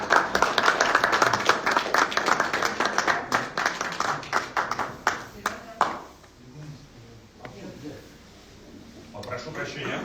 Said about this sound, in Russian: Под ваши аплодисменты Артур Найфонов.